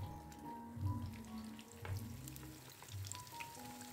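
Tempeh fries in hot oil in a home kitchen pan, a quiet continuous sizzle with faint crackles and a few soft clinks and bumps nearby.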